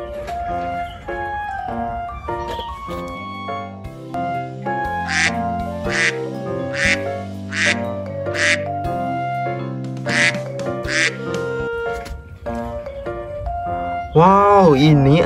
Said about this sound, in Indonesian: Ini mainan bebek, teman-teman.